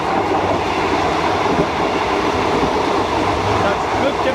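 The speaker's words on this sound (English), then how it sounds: "it's a whole lot more fun to be on one of these old trains running through" An old train running in Malaysia near the Thai border, heard from on board as a loud, steady rumble and rattle of wheels and carriages that continues unbroken throughout.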